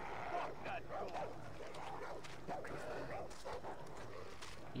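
A dog in the video game Far Cry 3 barks and yips over and over at a steady distance, partly buried under game ambience and a voice talking.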